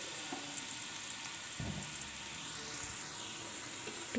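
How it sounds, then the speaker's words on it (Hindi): Onions fry in hot oil inside a pressure cooker, giving a steady, moderate sizzle with a faint soft clatter partway through. "मैंने प्रेशर कुकर में ऑयल डाल दिया है, उसको थोड़ा गर्म होने के बाद हम उसमें प्याज डाल देंगे"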